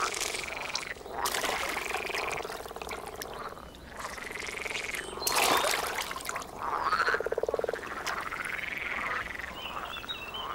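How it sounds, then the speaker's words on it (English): Grass frogs croaking in shallow water, a dense, continuous chorus of rasping, gargling calls overlapping in loud repeated bursts close by, with no voices. "The grass frog's reproduction cycle starts in shallow water."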